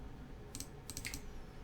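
Brief bursts of computer keyboard typing on a Windows 11 PC, a few quick clicky keystrokes in two small clusters, close and light over a quiet room hum.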